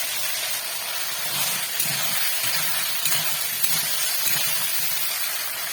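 Soybean chunks frying in a pan with potatoes, giving a steady, close, even sizzle and hiss that runs unbroken for the whole stretch with no one talking.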